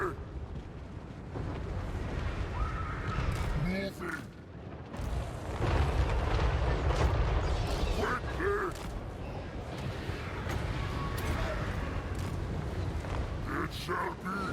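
Grand cannons fire in the fantasy battle video game Total War: Warhammer 3, with deep booms buried in a dense, continuous roar of battle noise that runs throughout.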